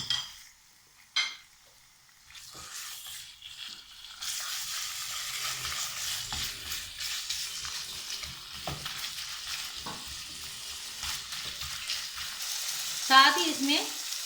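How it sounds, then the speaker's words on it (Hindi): Minced meat (keema) hitting about two tablespoons of cooking oil in a pan: a few quiet clinks, then a steady hissing sizzle that keeps going, with occasional stirring clatter and a brief sharp scrape near the end. "इसके अंदर तकरीबन 2 टेबलस्पून जो है ये मैं कुकिंग ऑयल डाल रही हूँ और साथ ही ये पूरे का पूरा कीमा।"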